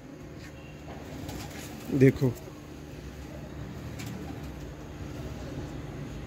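VIP Chapre pigeons coo in a short low burst of two or three notes, fairly close, over a quiet background with a brief spoken word nearby.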